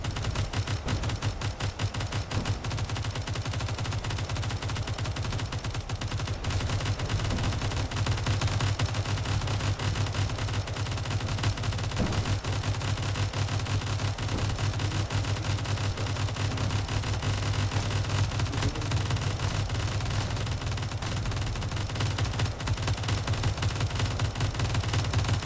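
Mortar and gunfire in a Space Engineers RTS battle scenario, heard as a dense, continuous rattle of rapid shots with steady low rumble, loud and unbroken throughout.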